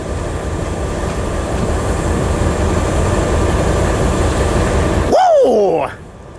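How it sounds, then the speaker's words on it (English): Freight train 573 rumbles past northbound at Fullerton, a loud continuous roar of rolling cars up close, ending in a sharp horn blast, with a voice faintly present. "Here comes 573 coming northbound here."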